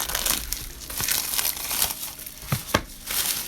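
Plastic-sealed solid gel polish packaging is torn open and handled up close, giving a dense, continuous crinkling with a few sharper crackles and snaps, with no talking.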